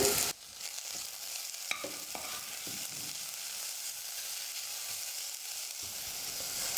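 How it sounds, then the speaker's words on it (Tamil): Sliced cabbage sautés with onions in a pan for a snack recipe, giving a steady hissing sizzle with occasional scrapes and taps as it is stirred, and no one is talking. "கோஸ் சேர்த்து 2 நிமிஷம் நல்லா நான் வதக்கிக்கிட்டேன்."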